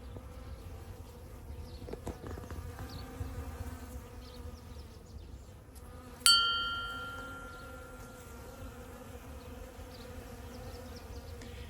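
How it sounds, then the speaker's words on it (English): A steady, droning hum of many bees and insects in a garden in Crete fills the background, with a single bright ringing ding partway through that fades away. "There's a constant background hum from bees and insects everywhere."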